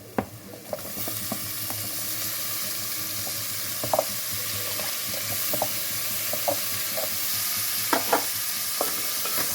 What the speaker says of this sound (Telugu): ఇప్పుడు కట్ చేసుకున్న టమాటా ముక్కలు వేస్తున్నాం.